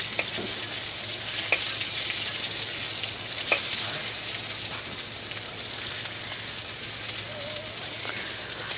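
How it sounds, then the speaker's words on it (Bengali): Steady oil sizzling and crackling from paneer frying, close and continuous, with occasional soft taps of a spatula. "পনিরটা আমার প্রায় লাল লাল করে ভাজা হয়ে গিয়েছে"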